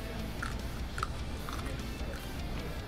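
Super crunchy carrots chewed up close in an eating challenge, giving a moist, steady crunching and mashing with a few louder bites over a busy background.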